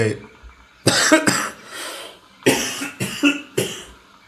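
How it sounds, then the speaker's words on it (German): Several harsh coughs in two bursts, a pair and then a quick run of three, close and loud, with a short quiet gap between them. "ich muss gleich husten"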